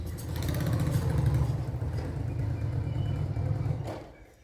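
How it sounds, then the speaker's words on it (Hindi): A motorcycle pulls up nearby, its engine a low, steady rumble for several seconds before it cuts off abruptly. "कोई मोटरसाइकिल आई है"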